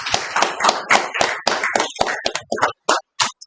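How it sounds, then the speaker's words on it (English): Clapping from a small audience at a Toastmasters club meeting, close and fairly loud, dense at first and then thinning to a few last separate claps. "Let's have a huge round of applause for all of us."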